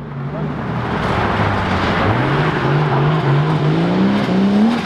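A drift car's engine revs loudly and climbs in pitch over several seconds, close by, with a steady rising whine through the whole stretch and a crowd or voices faintly underneath.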